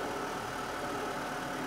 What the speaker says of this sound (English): you'll want to start the engine up and it might still blow a little smoke like you just saw here